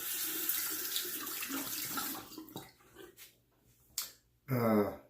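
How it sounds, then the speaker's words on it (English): A tap runs to wet a Neillite Four Hundred safety razor before shaving: a steady hiss of flowing water close by, broken by a few splashes and a short burst of rinsing near the end. "I'm going to wet the razor here."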